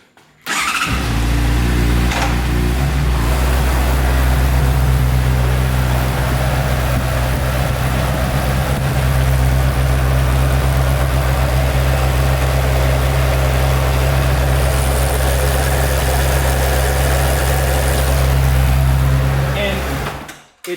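A Honda CBR600RR sport motorcycle engine starts and settles into a steady, loud idle that runs close by for about twenty seconds, a continuous low rumble filling the clip.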